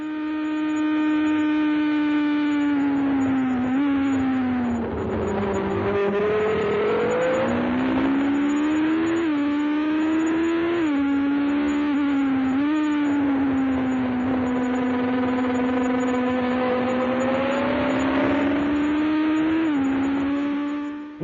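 Formula One cars in a Grand Prix practice session, including a Ligier, with a loud sustained engine note that rises and falls through repeated gear shifts and revving over about twenty seconds, no talking.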